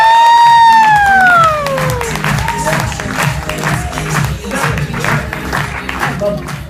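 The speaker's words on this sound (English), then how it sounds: "Give yourselves a big clap." An audience in a room breaks into applause and cheering, with a raised voice sweeping up briefly at first before dense, sustained clapping and shouts fill the rest.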